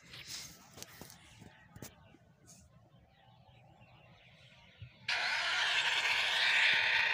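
A bus engine in the Bus Simulator Indonesia video game starts up after a quiet stretch, turning into a loud, steady, continuous rumble and hiss that holds to the end, with talk around it.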